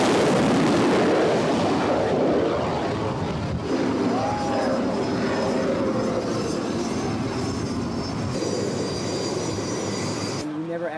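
Jet planes launching and landing at close range, a loud continuous roaring rumble that swells and fades across the span, with faint voices in the background.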